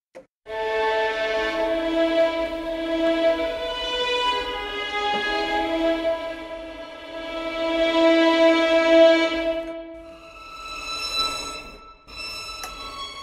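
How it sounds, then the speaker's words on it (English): Sampled violins from the Sonuscore Strings of Winter library play a sustained preset: rich, layered held tones swell and fade across several chords, with a brighter, thinner passage near the end. "go to the violin extended articulations so that we can hear these Strings of Winter presets"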